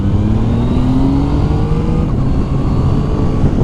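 A 2020 Yamaha Tracer 9 GT motorcycle accelerating hard through quick-shifter gear changes, its engine note rising steadily in pitch, loud and close, with heavy wind rumble and no talking.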